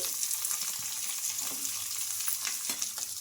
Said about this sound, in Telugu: ఇందులో చిన్నగా కట్ చేసుకున్న ఆనియన్స్ మిర్చి కూడా వేసుకోవాలి